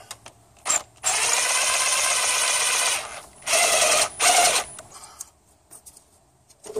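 A ratchet works on the alternator adjustment bolt of a Camry 2.2L 5SFE four-cylinder engine, giving long bursts of rapid clicking, one lasting about two seconds, then shorter spurts, close and loud against quiet pauses.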